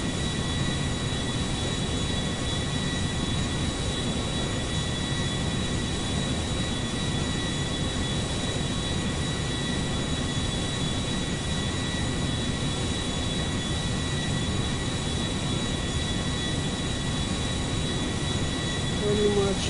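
A Boeing 747 in a flight simulator game descends toward the runway, its steady broadband engine rumble and hiss droning evenly throughout with faint tonal whines above, no talk heard over it.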